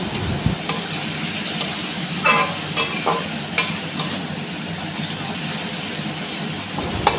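Ground cumin and ginger paste sauté in a pan, a loud, close sizzle with frequent clatters and scrapes as a spoon stirs the mixture steadily throughout.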